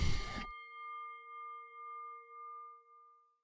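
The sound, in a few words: ringside fight bell ringing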